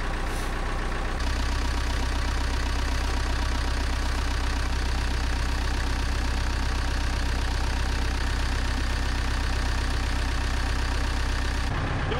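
A Massey Ferguson tractor idles after a cold start, its engine starting about a second in and then chugging loudly and steadily with a low, even knock and no other sounds.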